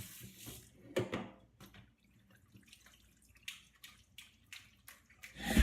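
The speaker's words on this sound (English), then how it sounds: "we're going to rinse it in and then drain all the water out" Water from a hose rinses raw chicken and then drains away, heard as irregular splashes, trickles and drips that come in uneven bursts, with a louder gush at the end.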